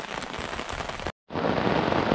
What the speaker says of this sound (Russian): Но дождь хороший, я чуть не думал, что такой-то ливанет.